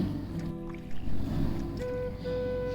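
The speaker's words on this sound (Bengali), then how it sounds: "আজকে আমরা নৌকা নিয়ে বিলের উপর দিয়ে যাচ্ছিলাম।" A rowboat glides across a monsoon-season wetland lake (beel), giving a steady close wash of water and soft hull noise, with a low engine-like hum and a faint tone running underneath.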